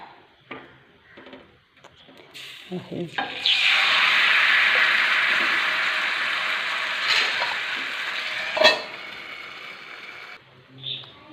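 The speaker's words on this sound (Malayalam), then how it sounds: "നമ്മൾ ദോശ ചട്ടിക്ക് വയ്ക്കുക" Dosa batter meets a hot pan with a sudden loud hiss that swells, holds and slowly fades over several seconds, framed by a few clacks and knocks of utensils close by, with no one speaking.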